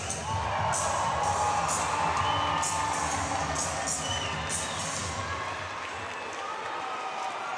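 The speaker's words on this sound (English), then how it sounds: "And just listen to that crowd." Arena crowd at a minor-league hockey playoff game between the Atlanta Gladiators and South Carolina Stingrays roaring and cheering, a dense sustained wall of voices with whoops and shouts that holds loud throughout, swelling slightly early on.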